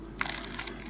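Short crinkle of a plastic wrapper as a bimetallic coin package is opened, a brief burst of crackling close by after a quiet start, fading into light rustling.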